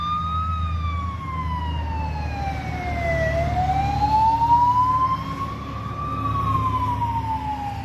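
A wailing ambulance siren rises and falls slowly, loud and close, over the rumble of traffic and engines.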